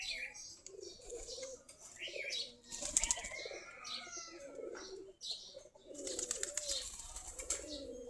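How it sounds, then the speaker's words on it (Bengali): Local Giribaz pigeons flap their wings in repeated bursts of loud clattering, with soft cooing and bird chirps between the flurries in an outdoor setting. "আমাদের দেশি গিরিবাজ কবুতর।"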